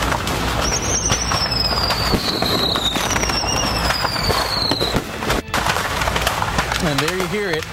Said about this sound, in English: those fireworks crackling, sounding like thunderclaps here for us